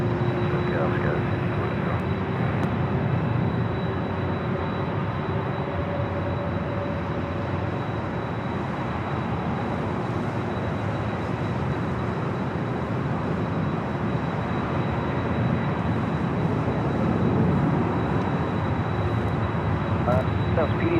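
A Chilean heavy Boeing 777 on approach to runway 24 left at LAX makes a continuous, fairly loud jet rumble and whine, with voices talking over it throughout.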